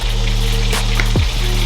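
Chicken wings sizzle and fry in hot oil in a pan, a steady close crackle with a brief spoon stir partway through and no talking.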